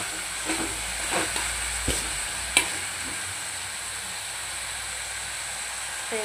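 Mutton sautéing in a pot for Hyderabadi dum biryani, a steady close sizzle with a few sharp stirring clanks and scrapes in the first seconds, then continuous hiss alone.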